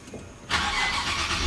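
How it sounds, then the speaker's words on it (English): An Infiniti G37s coupe engine starts with a push-button start and a clutch pressed, going from a quiet cabin to a sudden loud, steady roar of the engine settling into a strong idle. "Wow, you hear that engine? That's 330 horses waiting to go."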